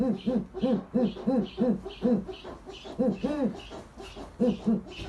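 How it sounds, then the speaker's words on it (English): A Turkmenian eagle owl hoots repeatedly at close range, a steady run of deep rounded calls in quick succession with short gaps, loud and clear with no talking. "he's a Turkmenian eagle owl"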